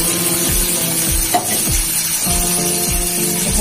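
Tomato and onion fry in a hot pan with a loud continuous sizzle, while a spatula stirs and scrapes at a steady rhythm close by.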